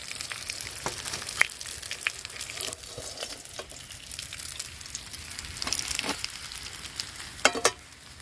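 Semolina-coated fish fry in hot oil in a pan, a soft, continuous sizzle with crackling spatters and a few sharper pops and clinks of stirring, with no talking.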